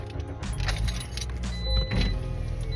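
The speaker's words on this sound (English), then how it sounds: "Let me turn the car on, and then I can roll down the window." A car's engine starts and idles low under a faint whirring of an electric power window lowering, with small clicks and jingling nearby; no one speaks.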